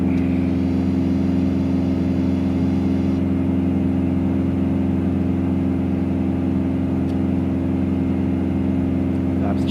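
The piston engine of a Beechcraft Bonanza V-tail propeller aircraft drones at a steady, loud pitch through the whole stretch, heard from inside the cabin with no change in tone.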